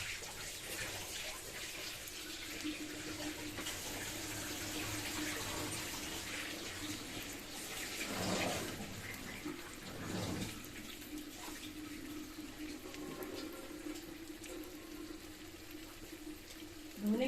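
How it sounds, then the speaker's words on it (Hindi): Tap water runs steadily into a sink while an eggplant is rinsed beneath it, a soft constant splashing hiss with a few brief surges of heavier flow, faint and alone. "धोना है हमें इसे और धो के इसका कड़वापन छिलके को निकालना"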